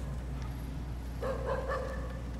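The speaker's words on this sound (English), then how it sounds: "It's a dog in a video game, not in real life." A dog barking in The Division video game, a short run of three or four quick barks over a steady low game rumble.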